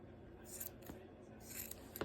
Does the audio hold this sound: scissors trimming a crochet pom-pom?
yes